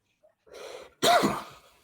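A single sharp sneeze bursts out after a short intake of breath, close and loud, in an otherwise quiet room.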